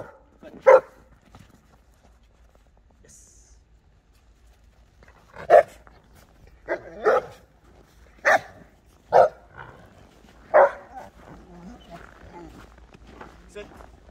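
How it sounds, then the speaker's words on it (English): A dog barks in a series of sharp, spaced outbursts at another dog down the road, loud and close against a quiet outdoor background, with a few more scattered yelps at the end. "what you guys are seeing here is Winston reacting to another dog that is down the road"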